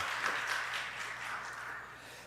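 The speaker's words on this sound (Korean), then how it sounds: "우리 청년들 귀한 일꾼 되라고 뜨겁게 박수 한번 부탁드리겠습니다" Applause from a church congregation at a Friday evening service for its young adults, a steady diffuse wash of many hands held at an even level and tapering slightly toward the end.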